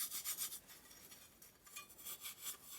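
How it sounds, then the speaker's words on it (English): Steel wool rubbing rust off the metal motor plate of a Dirt Devil hand vacuum, a close, quiet scratchy scrubbing in quick back-and-forth strokes, steady with brief pauses. "Steel wool this plate a little bit, get some of that rust off"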